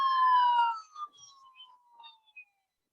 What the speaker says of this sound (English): Well, we have 2 police cars. They're going to make a lot of noise very soon.